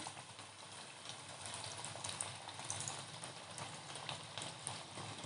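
Khari patties frying in hot oil over a low gas flame, a steady dense crackle and bubbling sizzle that holds evenly throughout with no talk.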